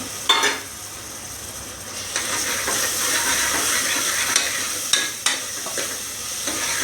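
Finely chopped tomato added to onions already frying in oil in a pan, bringing a steady sizzle and hiss with a few sharp clatters of stirring, close and continuous.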